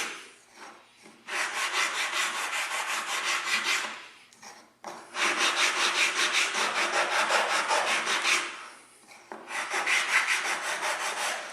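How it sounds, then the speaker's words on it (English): Wood is sanded by hand in three bursts of steady, rhythmic back-and-forth scratching strokes, close up, with short pauses between. "I always start by sanding the part smooth."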